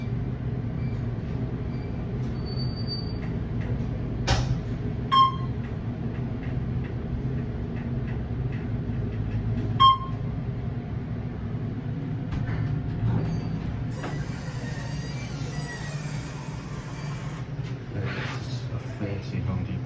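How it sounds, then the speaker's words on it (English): An Otis hydraulic elevator at a New York City Home Depot runs with a steady low hum and rumble, broken by a few clicks and a couple of short chime tones. "they're Otis hydraulic elevators."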